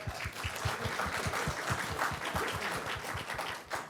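Faint audience clapping at a live show, a quick, fairly regular patter of hand claps heard from a distance throughout.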